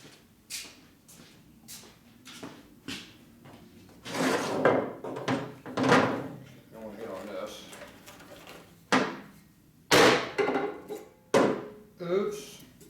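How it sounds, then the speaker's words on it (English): Hammer blows beat on new press plates during a Harley-Davidson FLHT Twin Cam touring transmission rebuild, sharp irregular metallic knocks, close and fairly loud, several in quick clusters with brief pauses between. "new press plates he bought that are waiting to be beat on with a hammer"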